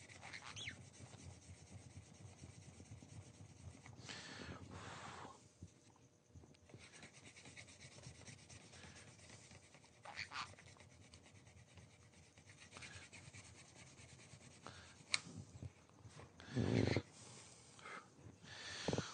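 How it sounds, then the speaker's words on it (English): Close, rhythmic rubbing strokes of 220-grit sandpaper worked by hand over wood, a soft rasping that continues in bursts with brief pauses and occasional handling knocks. "So you take the 220 and just kind of buff it out."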